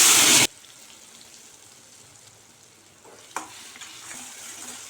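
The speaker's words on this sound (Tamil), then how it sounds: "இப்போ இதை நெய்யிலே வந்து நல்லா வதக்கிக்கணும்." Ground jackfruit being sautéed in ghee, a loud burst of frying for the first half second, then a low steady stir and sizzle, with a brief scrape and a slightly livelier sizzle toward the end.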